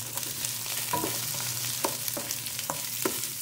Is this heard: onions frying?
yes